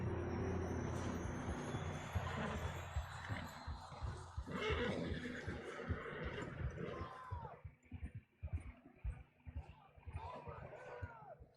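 Horses from the Red Dead Redemption 2 video game, with a whinny and snorting over a busy game soundscape, followed by hoof-like thuds and rustling while voices talk intermittently.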